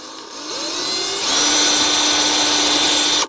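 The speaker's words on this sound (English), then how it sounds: "I'm going to drill my hole." A power drill bores a hole into a tree trunk for tapping sap, its motor whining steadily and rising in pitch as it bites into the wood, loud and close for about three seconds before cutting off.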